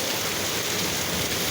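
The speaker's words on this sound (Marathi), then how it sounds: "हे बघा, गावचं वातावरण बघा, खतरनाक पाऊस." A brief stretch of torrential village rain, steady close hissing of drops pelting the ground and roofs, heard alone without talk.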